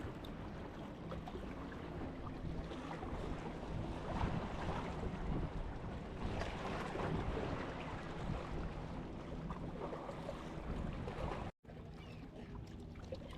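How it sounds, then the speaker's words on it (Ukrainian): Strong wind roars steadily across the microphone, a constant buffeting rush over what sounds like open water at a harbour while fishing, with a brief dropout near the end. "проблема в тому, що вітер прямо в обличчі."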